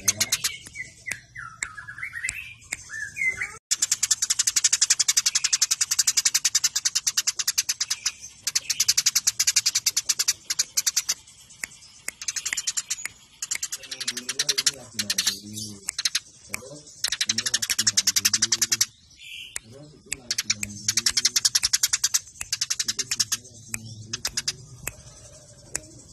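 Dense, high-pitched chirping from several small birds, likely sparrows, fills most of the recording: rapid and near, with brief pauses and some lower warbling calls in the middle stretch.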